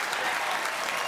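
Rugby league stadium crowd in the Eastern Grandstand at a Manly Sea Eagles versus Melbourne Storm match, a dense steady wash of applause and cheering heard from a distance, with a commentator's voice faintly over it.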